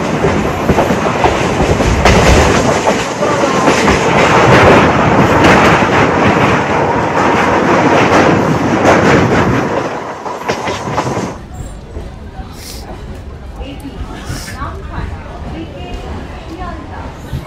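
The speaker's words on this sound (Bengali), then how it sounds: "এই ট্রেনই রওনা দেবে নামখানার উদ্দেশ্যে" A passenger train to Namkhana rumbles and clatters loudly past for about ten seconds, then the noise drops to a quieter background hum.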